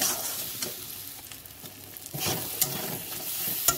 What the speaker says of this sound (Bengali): মশলাটাকে আবার আমি নেড়ে চেড়ে দেবো